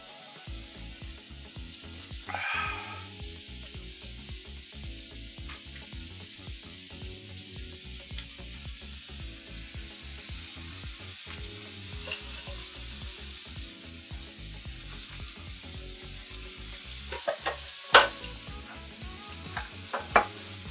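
Meatballs sizzle steadily in a hot frying pan, a continuous close crackle with occasional stirring scrapes and a few sharper clinks of utensils near the end.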